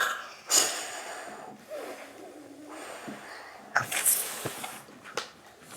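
A person blows a whooshing breeze imitation for children, several breathy puffs of air, some short and some longer, fairly close and moderately loud with pauses between them.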